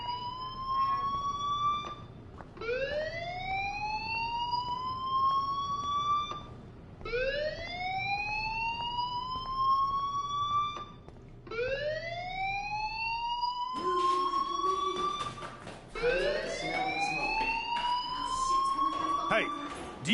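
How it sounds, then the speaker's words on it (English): Fire alarm in the video game Life is Strange, rising electronic siren-like whoops repeating about every four to five seconds, loud and steady with a continuous ring underneath. "do you hear that fire alarm?"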